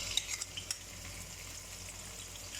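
Garlic paste sizzling in hot mustard oil in a pan, with a few sharp spattering pops and utensil clicks early on, then a quiet, steady low sizzle.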